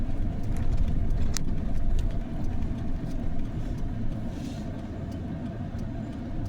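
A vehicle drives steadily down the road while hauling farm equipment and passes another vehicle, with a constant engine rumble, road noise and a few faint clicks.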